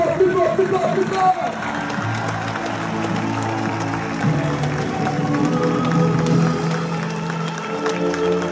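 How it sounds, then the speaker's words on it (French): An audience at a farewell event applauds and cheers steadily throughout, a broad wash of clapping and crowd noise with voices and some music mixed in. "applaudissons encore une fois pour cette écurie et pour ce Gadjeda"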